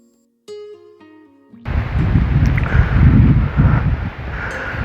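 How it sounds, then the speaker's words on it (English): A few soft tonal notes sound, then steady gusting wind roars loudly against the microphone, buffeting unevenly until the end. "It's a wee bit windy today"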